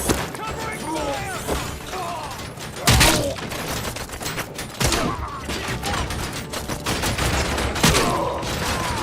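Bursts of gunfire ring out during a covering-fire shootout in the RoboCop: Rogue City video game, with several sharp loud shots standing above a dense, busy mechanical clatter that continues throughout.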